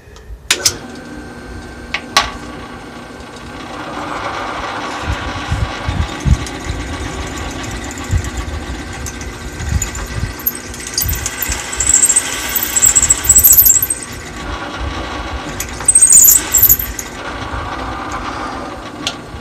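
A thread chasing tool works through a threaded hole, producing a steady scraping, grinding churn with intermittent ratcheting clicks and a few brief metallic squeals, close and fairly loud.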